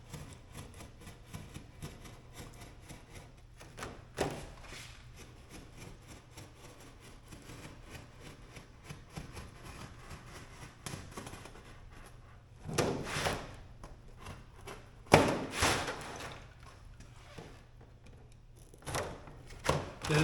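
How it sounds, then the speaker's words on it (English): A roofing knife scores through a tough polycarbonate (Lexan) sheet resting on cardboard on a workbench, with quiet scraping strokes and a few louder sharp cuts and handling bumps spaced through a fairly quiet stretch. "The roofing knife, cardboard underneath so I don't cut up my workbench."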